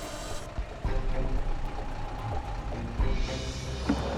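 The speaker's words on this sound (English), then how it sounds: "lifts the tractor to create some slack" A heavy wrecker truck lifts a tractor at a recovery scene. Its engine gives a steady, loud diesel rumble throughout, with faint higher-pitched mechanical whines rising over it.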